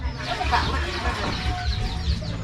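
Chickens cluck in a rural field setting in Champasak, Laos, a steady run of short clucks and calls close by over low background rumble, with some faint voices nearby.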